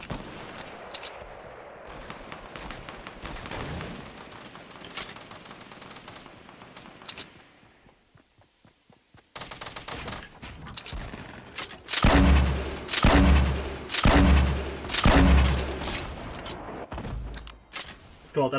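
Gunfire in a squads shooter video game: scattered shots at first, a quiet lull, then loud bursts of rapid automatic fire in several rhythmic volleys, close and intense.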